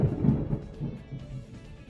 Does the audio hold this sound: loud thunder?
yes